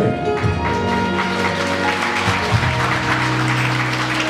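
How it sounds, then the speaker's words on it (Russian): Guests at a wedding banquet in a restaurant hall applaud steadily, a dense, continuous clapping that holds at an even level throughout, mixed with faint music. "Ваши аплодисменты."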